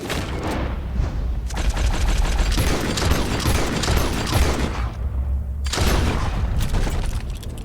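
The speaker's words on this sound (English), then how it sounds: "He got it! He shot the thing!" Heavy gunfire from Red Dead Redemption 2 booms in dense, rapid volleys with loud thuds and echoing blasts nearly throughout, dropping out briefly before resuming.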